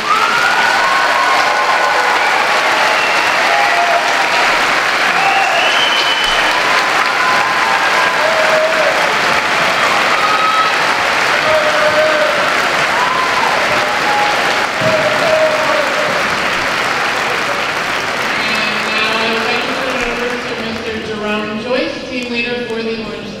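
An audience at a middle school promotion ceremony gives sustained loud applause with some cheering and shouts, a dense clapping wash that fades slightly near the end as voices rise.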